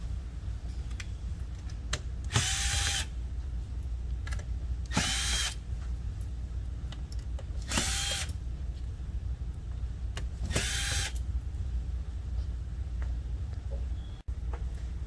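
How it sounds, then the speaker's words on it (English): A power drill backs out screws from the chassis of an arm-mounted medical patient display, four separate whirring bursts of two to three seconds each, close and loud against a steady room hum. "Next step is to remove the 4 screws from the chassis."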